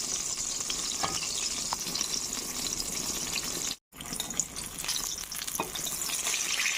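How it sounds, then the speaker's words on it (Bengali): Slices of brinjal fry in a pan, giving a continuous bubbling sizzle with scattered pops and one short silent gap partway through. No voices can be heard. "আর একটু ভাজতে হবে"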